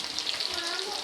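Garlic fries in a pan for chicken kebab, giving a soft, steady sizzle and crackle that stays faint and close for about a second.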